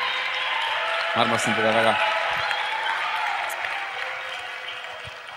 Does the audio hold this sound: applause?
yes